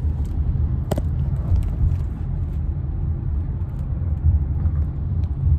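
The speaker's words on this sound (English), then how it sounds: "My God, look at the traffic." Steady low road-traffic rumble heard from inside a moving car, with engine drone and tyre noise throughout and a brief sharp click near the start, no voices.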